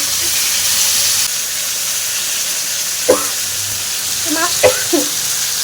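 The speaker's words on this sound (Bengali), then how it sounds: "মাছ ভাজা তো হয়ে গেছে মাছ ভাজা হয়ে গেছে" Fish frying in a pan in a home kitchen gives a steady sizzling hiss, loudest for the first second and then softer, with a few sharp clinks near the end.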